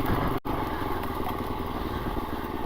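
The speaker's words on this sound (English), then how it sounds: "I'm just cruising along here and the bike is pulling itself with no clutch." A 2024 KTM 350 EXC-F dirt bike engine idles while rolling along with no clutch, a close, steady, throbbing four-stroke putter with a brief cut-out near the start.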